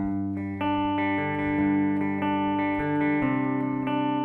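Picked guitar arpeggios ringing over moving low bass notes that shift the chords, steady and close, with no voices.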